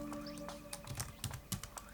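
Typing on a computer keyboard at a Linux terminal during an Arch Linux install, heard as a short run of irregular, close key clicks and taps.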